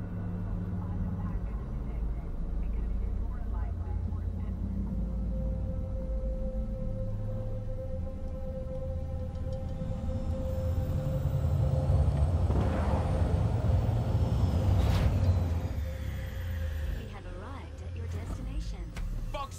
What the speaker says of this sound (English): Initiating landing sequence based on new parameters.